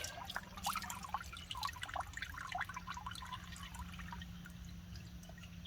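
Quiet, uneven dripping and trickling of very brown water through a filter on a hiking track, scattered little drops over a low steady background hum.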